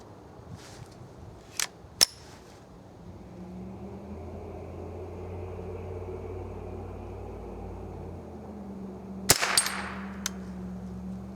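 A Remington Nylon 66 rifle is fired at targets, giving three sharp cracks: two close together near the start and one several seconds later. A low steady hum runs under the shots, and no one talks.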